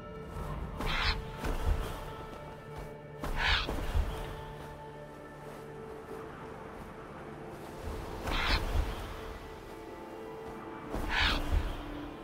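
A raven caws in Assassin's Creed Valhalla, several loud, harsh calls spaced a few seconds apart over a steady hum of ambient game sound, with no talking.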